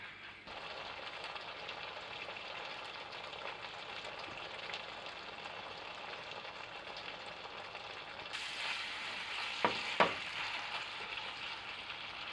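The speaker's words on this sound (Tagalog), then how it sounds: "Continue to stir fry it for 3 minutes." Beef strips with sauce and brown sugar sizzle steadily in a hot pan during stir frying, a soft continuous hiss with a few sharper crackles and scrapes near the end.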